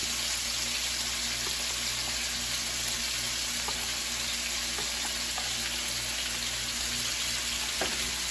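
Cube steak, about a pound, fries in a hot pan with a steady, dense sizzle and crackle, loud and continuous, with faint stirring or scraping now and then.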